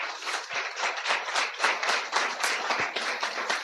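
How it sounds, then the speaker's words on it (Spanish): A church congregation applauds steadily, with dense, sustained clapping from many people filling the room for several seconds. "Dale un aplauso fuerte al Señor."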